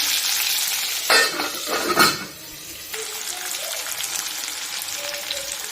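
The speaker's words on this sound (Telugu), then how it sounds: "ఆనియన్స్ వేసి ఆనియన్స్ కొంచెం వేగనిద్దాం." Onions fry in a pan for a simple chicken curry, a continuous close sizzle with a couple of louder stirring bursts early on that then settle into an even, crackling hiss.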